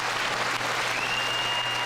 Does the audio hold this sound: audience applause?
yes